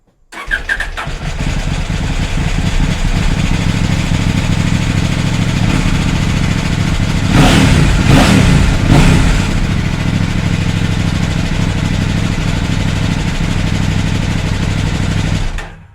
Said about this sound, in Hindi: चलिए अब इस बाइक को स्टार्ट करते हैं और इसकी साउंड भी चेक कर लेते हैं